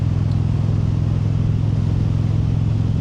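Steady low engine drone and broad wind roar from a motorcycle cruising on the road at about 60 mph, continuous and even throughout with no voices.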